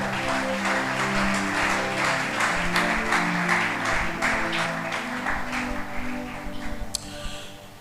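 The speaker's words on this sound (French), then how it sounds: "Nous reprenons nos places et nous acclamons pour la parole de Dieu." Church congregation applauding, steady dense clapping from many hands filling a large room, moderately loud, with low voices and music underneath.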